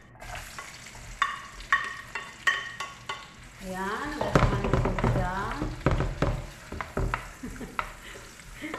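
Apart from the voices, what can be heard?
onions frying in a pan with oil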